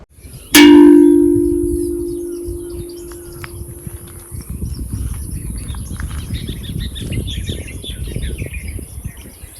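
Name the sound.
birds chirping in quiet ashram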